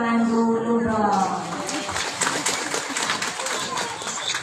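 An audience at a religious gathering applauds, a dense patter of many hands following a held voice, steady and fairly close, with talk faintly mixed in.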